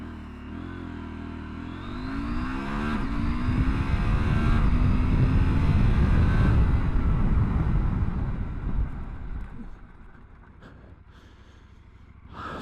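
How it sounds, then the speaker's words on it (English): Husqvarna Norden 901 motorcycle engine rising through the gears under hard acceleration to about 80, then dropping away as the bike brakes to a stop, with wind rush over the microphone throughout. "testing, 0 to 80 to 0."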